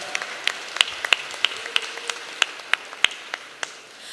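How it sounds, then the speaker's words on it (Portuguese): A small audience claps sparsely to welcome a speaker at a political talk event, with a few sharp, separate claps spaced unevenly over a quiet room. "Palmas para o Glauber."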